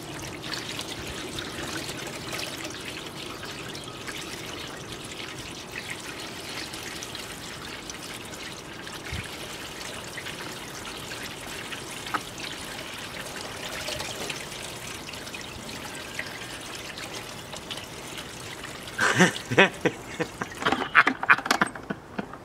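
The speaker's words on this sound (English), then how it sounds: "let's simulate our cross-flow turbine with a bucket of water." Water from a bucket pours steadily through a cross-flow (Banki-Michell) turbine, a continuous trickling, splashing wash lasting throughout, with sharper clattering knocks near the end.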